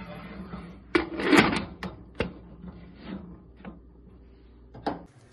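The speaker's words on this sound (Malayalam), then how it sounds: "ഇനി ഇത് അടച്ചു വെച്ച് വേവിക്കാം." A lid set down on a cooking pot of spinach curry, a handful of sharp clattering knocks and scrapes close by, loudest near the start and with a final tap at the end, no voices.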